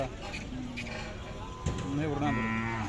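A Khillar cow moos loudly and close at a cattle market in Sangola, a drawn-out low call rising partway through, while people talk over a busy background.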